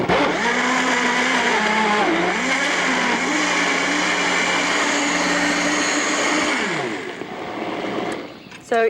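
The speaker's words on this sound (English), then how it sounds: "So your blender at home is going to take a little more time than that." A powerful high-speed blender whirs steadily while blending vegetables, its motor pitch shifting slightly as the load moves, then winding down near the end; a voice is heard speaking over it.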